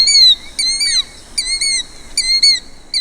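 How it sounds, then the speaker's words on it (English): A killdeer gives its own-name call, loud, clear and high-pitched, with a few quick slurred notes repeated in short bursts over an otherwise quiet background. "the mnemonic for this is its own name, killdeer, killdeer, killdeer"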